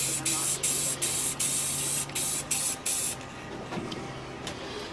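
Spray can hissing in a series of short bursts as a light coat goes onto vinyl lettering on a safety vest, then the bursts stop and only a low hum and faint handling noises remain.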